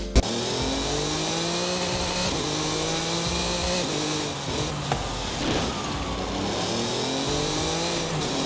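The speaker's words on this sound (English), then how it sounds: "the Mercedes-Benz AMG CLK GTR Forza Edition from 1998" A 1998 Mercedes-Benz AMG CLK GTR Forza Edition race car in Forza Horizon 5, its engine droning loud and continuous with rising and falling revs through gear changes, heard alone without talk.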